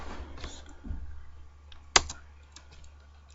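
Someone types code on a computer keyboard with quiet, scattered key presses and one sharper, louder clack near the middle, close and without talk.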